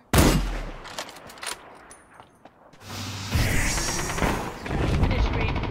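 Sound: rapid gunfire in video game Ring of Elysium

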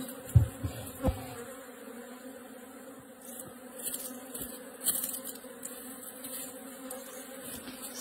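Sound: honeybees buzzing around a hive

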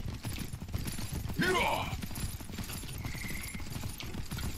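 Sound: horse galloping around in the video game Myth of Empires

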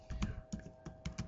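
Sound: typing on a computer keyboard

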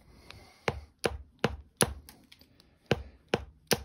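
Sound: flintknapping white glass into a knife blank

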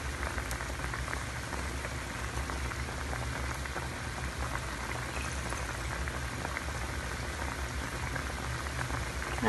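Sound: pork humba boiling in a pot

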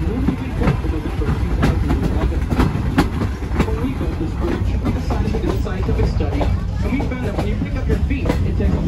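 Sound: train moving on tracks

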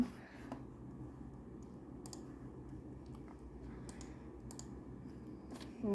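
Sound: computer keyboard keys being pressed

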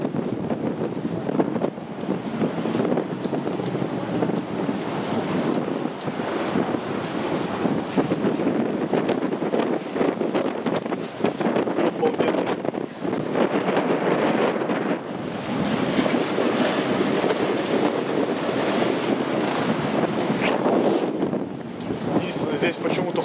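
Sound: wind on the island of Comino, Malta

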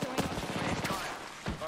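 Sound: gunfire in a video game

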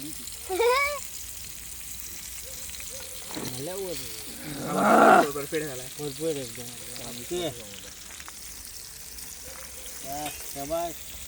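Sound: chicken frying in oil on roof tile

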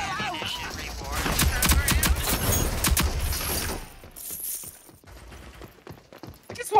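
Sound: gunfire in a video game

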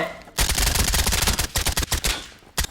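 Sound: gunfire in the video game Shattered Skies

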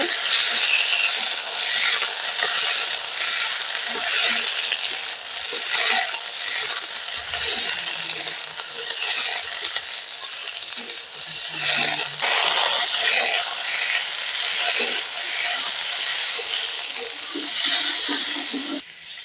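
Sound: stirring grape chutney in a pan

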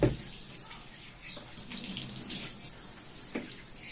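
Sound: running tap water for bathing a dog

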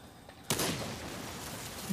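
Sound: car explosion in the video game Into The Dead 2

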